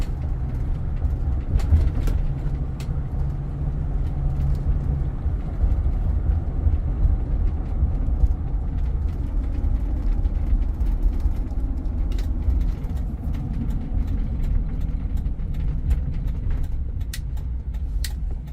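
A 2004 Ford F-250 Super Duty Harley Davidson Edition truck on the move, its engine and road noise heard as a steady low rumble from inside the cab while the transmission shifts smoothly.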